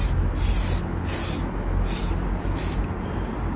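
Aerosol spray can laying thin coats of paint onto a Tamiya Hornet RC car body shell inside an outdoor spray box, with four or five short hissing bursts in a steady rhythm over a constant low rumble.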